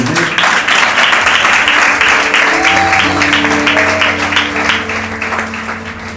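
A church congregation at a Baptist service applauds in praise, a loud dense wash of clapping with sustained organ or keyboard tones underneath, gradually easing off.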